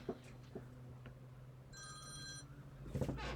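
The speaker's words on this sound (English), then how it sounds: "And my phone's ringing." A telephone rings once in a quiet room during a craft session, a short electronic trill at moderate distance, with faint handling noises before and after and no talking.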